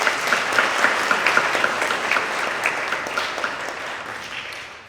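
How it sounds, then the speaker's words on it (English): Audience applauding the graduates' families and friends at the University of Iowa's 2024 international student graduation celebration; steady hall-filling clapping with crisp individual claps throughout, gradually thinning and fading toward the end. "let's especially applaud the families and friends who are here to support the graduates"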